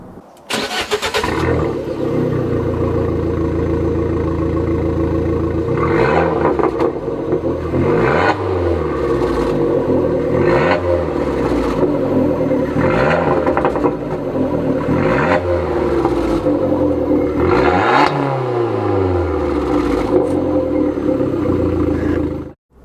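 A Fiat 500 Abarth with a Novitec straight-through exhaust starts up and revs hard again and again, about six loud, throaty rises and falls close by.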